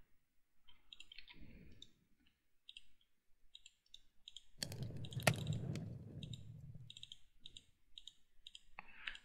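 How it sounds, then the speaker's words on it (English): Quick runs of small clicks from a computer mouse while a video game is played, soft and close, with a brief louder rumbling burst partway through. "I'm clicking a lot"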